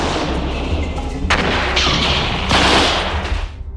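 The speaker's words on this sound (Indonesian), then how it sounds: "tiba-tiba ada yang melempar granat" Grenade blast in a Soviet tank war film, a sudden loud broadband burst followed by a second heavy explosion and rumbling, crackling debris over continuous low battle noise.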